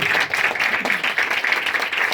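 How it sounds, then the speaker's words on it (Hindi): Crowd applause at a church worship gathering, welcoming the Lord: steady, dense clapping from many hands that fills the whole stretch without a break. "जोरदार तालियों में खुदावंद को वेलकम करिए।"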